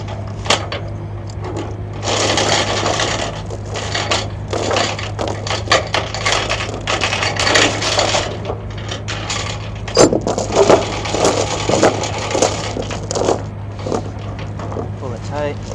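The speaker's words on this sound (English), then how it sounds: "just gonna walk you through me chaining down this corner of the Mini X here" Metal chain clinks and rattles as a mini excavator is chained down on a hotshot trailer, with repeated jangling bursts and scrapes over a steady low engine hum.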